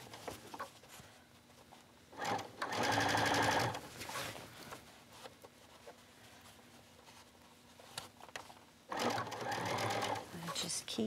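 Sewing machine stitching bias trim around a garment neckline, two sustained whirring runs of steady stitching, close and clear, with quiet handling noise in the gaps between them.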